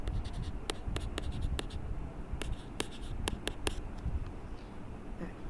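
Pen or pencil writing out math equations by hand, with quick scratching strokes and sharp taps at an irregular rhythm, close and fairly quiet over a steady background hiss.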